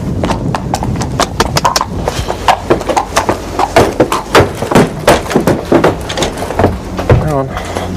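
Horse hooves clip-clop in a steady walking rhythm close by, each hoof strike a sharp knock, with faint voices in the background.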